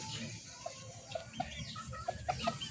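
Soft, scattered clucks from a rooster close by, several short calls over low background noise.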